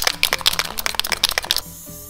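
Spray paint hisses over a homemade mylar stencil in short, rapid bursts of close, fairly loud spraying for about a second and a half, then stops, with a faint low hum underneath.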